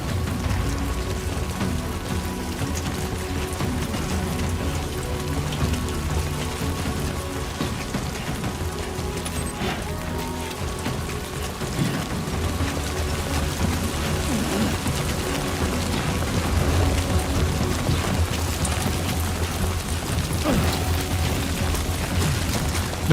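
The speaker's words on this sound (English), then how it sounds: "Oh, the rain is strong." Heavy rain falls in the Death Stranding 2 video game, a dense steady hiss of drops beating on surfaces that keeps up without a break, with faint low rumbles underneath.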